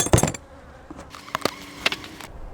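Honeybees at a beehive entrance give off brief buzzing passes and scattered clicks and knocks, close and fairly quiet, irregular rather than a steady drone.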